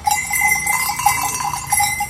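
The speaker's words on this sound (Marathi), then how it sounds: "हे त्यांच्या गळ्यातला घंटा आहे." A bell hangs from a farm animal's neck at a rainy weekly village market in Konkan, ringing in a steady, repeated clang with a metallic tone, close and fairly loud over a light background hum.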